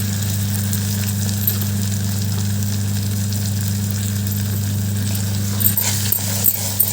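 Tomatoes with turmeric, coriander powder, chili powder and salt fry for a home-style egg curry, giving a steady close sizzle over a low hum, with a few stirring knocks near the end.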